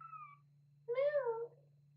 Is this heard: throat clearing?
no